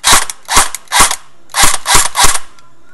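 Six sharp, loud bursts from an ECHO 1 USA Platinum M4 airsoft gun just after a piston change, fired close by in two groups of three with a short pause between, each shot a snappy mechanical crack.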